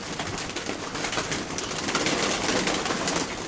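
Pigeons coo continuously at close range, a dense, steady bed of soft calls with no voices over it.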